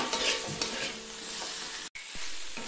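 Fried cauliflower is stirred and mixed with spices in a pan, giving a steady crackling sizzle under scraping strokes of a spoon, close up and continuous with one brief dropout.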